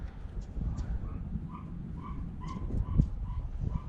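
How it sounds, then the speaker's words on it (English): Inside a house, a puppy yips and whimpers in short high repeated bursts, faint and somewhat distant over a steady low background rumble. "Oh, they left their puppy in the house."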